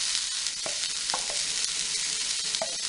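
Shredded cabbage and carrot sauté in a hot pan, giving a bright, steady sizzle with a few soft scraping strokes of a spatula stirring the vegetables, close and unbroken.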